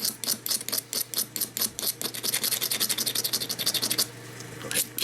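A flint arrowhead edge is ground against an abrasive, giving a close run of rhythmic scraping strokes, steady and moderately loud, with no talking.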